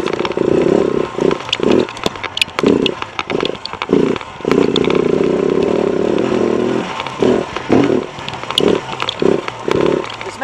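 A KTM 690 single-cylinder engine lugs in second gear at low revs on hard off-road ground, a loud throbbing chug broken into uneven bursts as the throttle rolls on and off, with clatter and scraping from the terrain and no talk.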